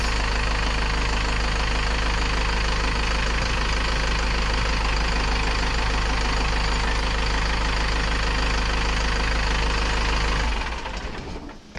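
A step van bread truck's engine idles loud and close with a steady, even rumble for about ten seconds before cutting off abruptly near the end.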